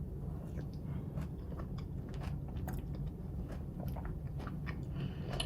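Close, quiet bites and wet chewing on a juicy Cara Cara orange, with soft crunchy clicks repeating steadily over low background hum.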